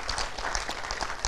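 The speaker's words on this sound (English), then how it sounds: "A big round of applause to this great person" An audience at a motivational talk breaks into applause, a moderate burst of scattered hand clapping that carries on evenly through the short moment, with no speech over it.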